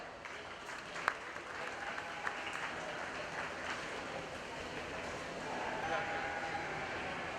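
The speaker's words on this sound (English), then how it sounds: "Let's all give our judge a round of applause." Crowd applause for the judge at the Lawrence County Fair 4-H and FFA market lamb show, a steady, even wash of clapping that holds for several seconds and swells slightly near the end.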